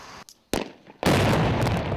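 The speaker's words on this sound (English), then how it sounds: "These gigantic explosions with lots of secondary pop-offs, as they call them." Weapons caches blown up in a demolition: a sharp blast, a second burst, then a huge sustained explosion with a roaring, crackling wash of secondary pop-offs, loud and continuous to the end.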